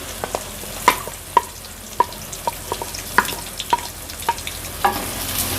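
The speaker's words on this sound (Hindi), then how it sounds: "और तेज़ आंच पे प्याज को फ्राई करना है।" Sliced onions fry on high heat in a pan, a continuous close sizzle broken by sharp, regular metallic clinks of a spoon stirring roughly every half second, with no talking.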